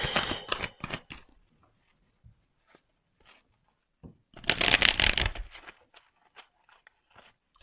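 A deck of tarot cards being shuffled, with quick riffling bursts at the start and a longer, louder riffle in the middle, separated by soft taps and scattered card handling noises, close and without speech.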